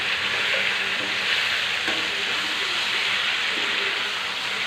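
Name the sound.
chicken fry cooking in a pan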